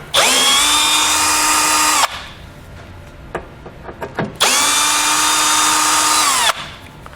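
Power drill with a T20 Torx bit removing fascia bolts on a 2019 Chevrolet Sonic, two loud sustained whirring runs of about two seconds each, with small handling clicks between them.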